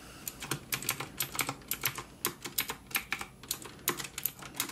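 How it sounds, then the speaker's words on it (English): Computer keyboard typing in a quiet retro videogame store setting, a steady run of close, soft clicking keystrokes with brief pauses, no talking. "so let's go ahead and type this in"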